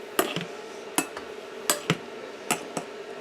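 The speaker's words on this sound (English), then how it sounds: "Just stirring it around a little bit like so." A spoon stirs a rose-and-peony scented skin moisturizer mixture in a container, making sharp tapping and scraping clicks against the sides every half second or so, close and clear over a faint steady hiss.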